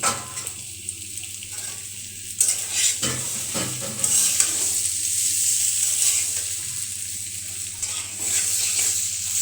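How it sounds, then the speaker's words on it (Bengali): Boiled potatoes fried in a pan and stirred now and then, a steady close sizzle carrying broad frying hiss with intermittent scraping strokes of a spatula, no voices. "এই যে এখন কিন্তু নেড়ে চেড়ে তারপর আলু ভাজিটা হতে থাকবে।"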